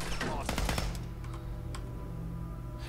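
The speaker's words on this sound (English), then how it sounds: "What? Gunshots?" Gunfire in the video game Fallout 4, a quick burst of several sharp shots clustered in the first second over steady game background hum, then a couple of isolated faint shots.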